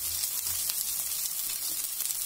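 An egg mixture fries in a pan over a low flame for an egg curry, giving a steady, even sizzle with a few faint crackles and no voices.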